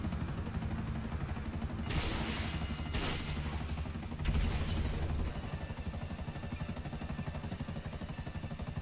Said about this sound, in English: But the minigun is a constant fire.